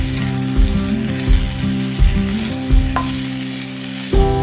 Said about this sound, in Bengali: নুনটা দিয়ে দিচ্ছি, দিয়ে আরও কিছুক্ষণ বেশ ভালোভাবে ভেজে নেবো